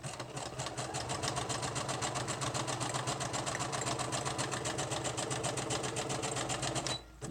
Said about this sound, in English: I'm taking it up to the center and I'm going to sew to the end.